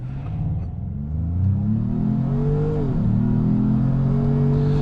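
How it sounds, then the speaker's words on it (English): A 2025 Ford Maverick Lobo pickup's engine revving high toward redline in Lobo mode, pitch climbing steadily, briefly dipping at a shift, then rising again, loud and close from inside the cab with no talking. "It goes right up to redline in Lobo mode."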